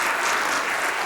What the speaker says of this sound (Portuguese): você merece uma salva de palmas